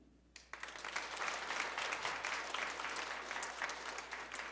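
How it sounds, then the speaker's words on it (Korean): A church congregation bursts into sustained applause welcoming new members, steady clapping that continues to the end at a moderate distance. "성도님은 뜨거운 박수 부탁드립니다"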